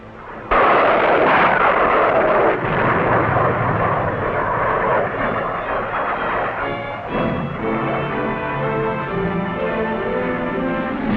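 Carrier aircraft pass overhead during a 1962 US fleet demonstration, giving a loud, sustained jet roar that starts abruptly and holds steady, slowly shifting in tone as they go by.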